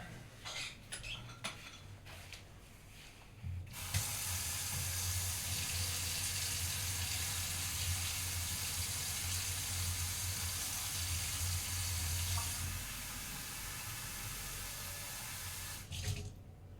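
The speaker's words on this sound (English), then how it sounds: "Let's fill up my water some more." Water runs from a tap into a water bottle, a steady close hiss of flow lasting several seconds, preceded and followed by brief clinks and handling noises, with no talking.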